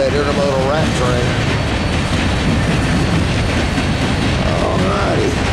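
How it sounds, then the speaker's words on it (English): An NS grain train of covered hoppers, apparently empty, rolls past at night near Dalton, a steady loud rumble and rattle of railcars filling the whole stretch with no break. "Unidentified guest grain train, empty hopper, something like that, by Dalton"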